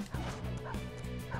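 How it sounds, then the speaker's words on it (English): Dogs bark and yip rapidly in the video game Persona 5 Royal, a quick run of several sharp, evenly spaced barks, moderately loud and close. "Oh no, not the dogs."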